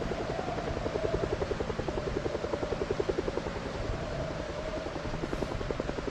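A helicopter in the zombie survival game Project Zomboid drones steadily overhead, its rotor thumping in a fast, even pulse that stays loud and constant throughout with no voices.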